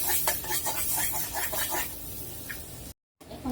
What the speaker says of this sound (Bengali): এখন পেঁয়াজ মরিচটা ভেজে নিব